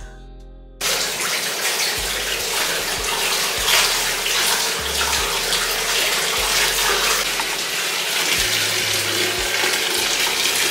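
Tap water gushes into a basin or tub to soak rolled cane webbing, starting abruptly after a brief quieter moment, then pouring loudly and steadily with occasional low thumps and splashes.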